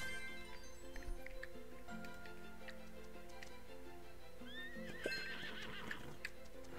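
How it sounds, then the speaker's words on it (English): A horse in the Ropin' Ranch horse-life video game lets out a loud, rising whinny, with clip-clopping hooves and steady game music running underneath; no one speaks. "I just saw a horse spawn."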